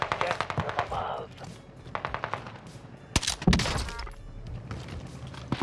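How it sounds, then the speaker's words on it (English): Heavy anti-tank rifle shots from the Renko in Call of Duty Vanguard Warzone, with a couple of loud booming blasts in the middle of the clip over busy game noise and scattered smaller pops. "Renko anti-tank rifle."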